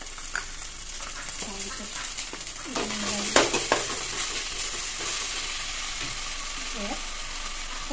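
Ginger-garlic paste frying in a little oil for a fish curry with colocasia leaves, a steady sizzle broken by metal spoon scrapes and clinks against the pan, with a brief spoken word over it.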